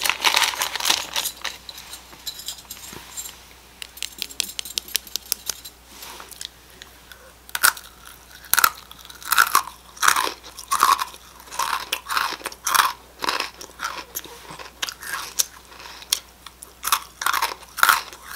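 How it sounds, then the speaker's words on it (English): Crisp, crackly bites and crunching chews on a crunchy crispy-taco-flavored Turkish snack, close to the mic, in irregular bursts with no talk. "This one is crispy taco."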